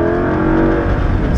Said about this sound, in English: Give you a little downshift right here.